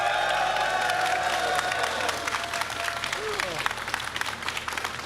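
An arena crowd at the Rocket League World Championship 2025 group stage cheers and applauds in a dense, continuous wash, with a loud voice speaking over the start before the applause carries on alone.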